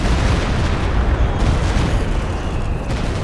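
Walking Stuka rocket artillery barrage in Company of Heroes 2, a dense continuous rumble of explosions and booms rolling along at steady loudness for several seconds.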